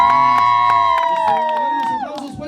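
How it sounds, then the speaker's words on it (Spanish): Wedding guests in a crowd shouting and cheering together, a loud sustained vocal whoop that slides downward and breaks into scattered voices near the end. "Solamente le estamos pidiendo que echen ahí por ahí porras"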